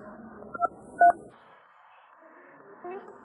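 Two or three short telephone keypad tones beep early on, brief and fairly faint, followed by a quiet, hissy room background.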